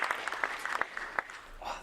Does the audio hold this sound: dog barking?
no